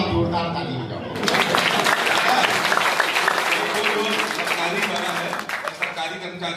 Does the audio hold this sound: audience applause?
yes